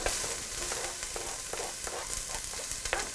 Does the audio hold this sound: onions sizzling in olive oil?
yes